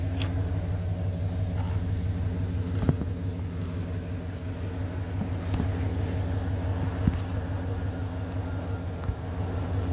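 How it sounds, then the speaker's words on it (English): A Dodge Ram engine idles with its exhaust cutout closed, giving off a steady, close low rumble and drone, with a few faint clicks. "First rev's gonna be with the cutout closed."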